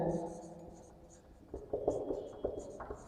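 Marker or chalk strokes scratch across a board during a maths lesson on sets, coming in short bursts close by, with a teacher's voice talking over parts of the writing.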